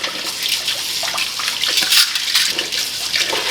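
A kitchen sink tap runs while silverware is washed, making a steady, close hiss of streaming water with splashy fluctuations throughout.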